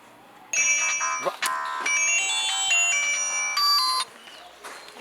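A bright electronic ringtone plays for about three and a half seconds in repeating melodic bursts, fairly loud and close, then stops.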